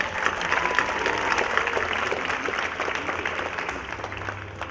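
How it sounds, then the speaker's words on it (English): Audience clapping at the 2019 Cherry Blossom Queen coronation program, a broad continuous wash of many hands at moderate level that tapers slightly toward the end, with a low steady hum beneath. "Please give a warm round of applause to Ms. Bernie Hui"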